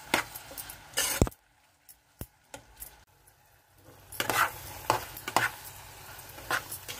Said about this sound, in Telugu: ఉల్లిపాయలు వేగిపోయినాయండి.